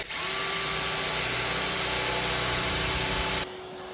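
A power drill bores into a Land Rover Defender camper, a loud, steady, high-pitched whine held close up for about three seconds before it cuts off.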